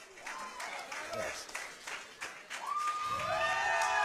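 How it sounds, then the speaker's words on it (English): A pro wrestling crowd claps and cheers in a steady wash of applause, with commentators talking over the noise. "this crowd is into it, man"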